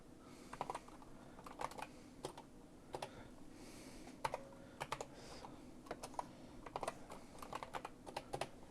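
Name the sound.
typing on a computer keyboard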